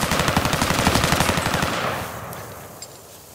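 A rapid burst of automatic gunfire from a gun in Call of Duty Modern Warfare, loud and close with evenly spaced shots for about a second and a half, then trailing off into fading echo and quieter game ambience.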